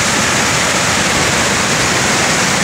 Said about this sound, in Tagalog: malakas yung falls ngayon na talaga namang ang lakas din ng Ampiyas